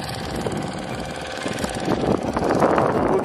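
A boat engine drones on Chilika Lake, a steady idling chug close by that grows a little louder and rougher toward the end, with no talking.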